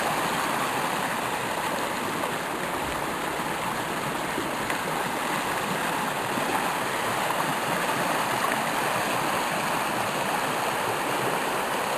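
A small brook runs steadily downhill beside a stone wall on a foggy day, a continuous close rushing and gurgling of water with no pauses and no voices.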